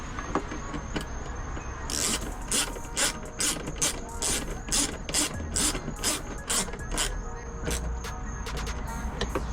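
A zip tie is ratcheted tight around backup light wiring on a 2023 GR Corolla, a close run of quick, crisp plastic clicks in short bursts over faint background noise.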